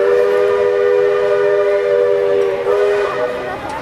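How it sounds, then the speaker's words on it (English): A Disney resort train blows its horn in one long, steady, loud whistle-like blast held for about three seconds before it fades. It sounds fairly close, outdoors in the evening, with no talk. "One last blow of the horn from the train."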